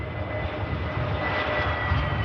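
A KLM Airbus A321neo jet departs Manchester Airport, its engines a steady, broad roar that holds loud and even throughout, with no voices.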